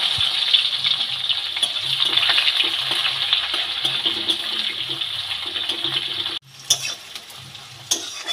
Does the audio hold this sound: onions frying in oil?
yes